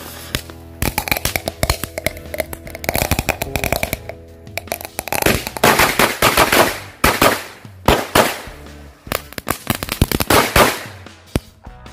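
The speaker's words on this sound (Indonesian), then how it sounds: "Semua merconnya udah di dalam. Ini langsung kita nyalakan menggunakan mercon pretekan." Firecrackers explode inside a drink can, a long dense barrage of sharp cracks and pops in rapid irregular bursts, loud and close, with metallic rattling between volleys.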